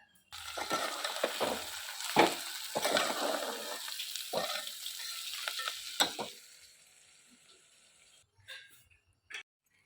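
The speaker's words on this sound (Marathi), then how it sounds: "चला अगोदर म्हणलं तर कांदा तळूया" Onion fries in hot oil in a pot with a bright, continuous crackle and several sharp stirring scrapes. The sizzle fades after about six seconds, leaving a few faint clinks and one last knock.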